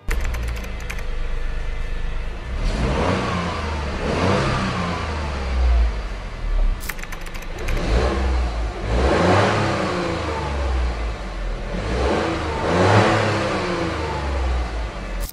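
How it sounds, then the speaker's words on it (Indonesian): A car's exhaust roars through several rising revs over about fifteen seconds, each surge building and falling back to idle, close and loud with no speech. "Suara knalpotnya sedikit berbeda."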